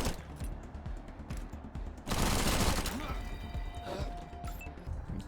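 A burst of gunfire from a shot in Wasteland 3 erupts about two seconds in and fades into mechanical clicks and rattles, all heard under ongoing talk.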